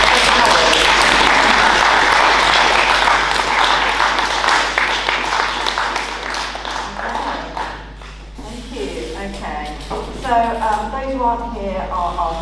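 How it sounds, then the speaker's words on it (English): A church congregation applauds during a Sunday service, dense broadband clapping filling the first several seconds before thinning out as a voice begins speaking over the fading claps. "just give them a round of applause"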